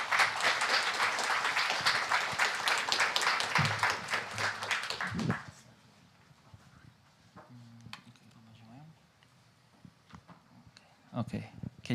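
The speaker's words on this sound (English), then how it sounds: "one big round of applause for the speakers" A conference audience at a Flutter meetup claps loudly and continuously for the speakers, then the applause drops off abruptly. Quieter room noise and a few scattered sounds follow.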